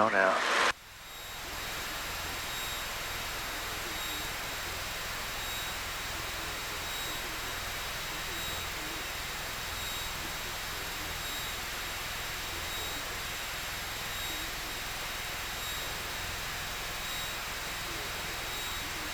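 Inside a Piper Cherokee 180 light aircraft taking off from Greensboro, NC, on runway 23, the engine drones steadily as a loud, even roar after a brief louder burst at the start.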